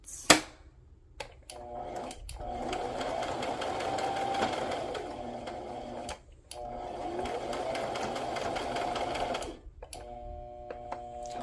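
A sewing machine stitches sari silk and lace flowers in long steady runs, a close, continuous whirring hum broken by short pauses, with no talking.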